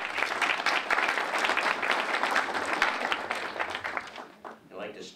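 Steady, full audience applause at a morning business breakfast gathering, a continuous wash of many hands clapping that eases off near the end.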